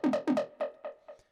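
Serum synth bass riff in the upper octave from the drop of a track, heard as a run of punchy, buzzy notes that swell and decay in a steady bouncing rhythm, close and alone, fading toward the end.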